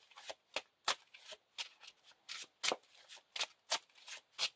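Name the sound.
shuffling a deck of cards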